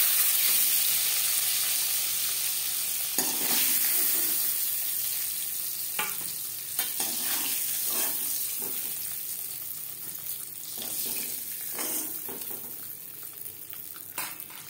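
Oil sizzles steadily in a pan after eggs are fried for an egg and potato curry, a constant close hiss broken by occasional clinks and scrapes of a utensil against the pan.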